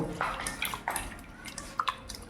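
Warm water splashes and trickles over raw rohu fish being washed by hand, a few close irregular splashes and drips alone without voices.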